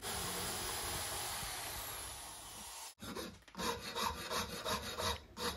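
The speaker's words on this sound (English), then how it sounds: "use my rotary carbide burr in my electric drill to do the weld preparation" A high-speed grinding whine of a rotary carbide burr in an electric drill cutting metal for weld preparation on motorcycle crankcases, steady for a few seconds, then a brief stop and a choppier, pulsing rasp as it resumes.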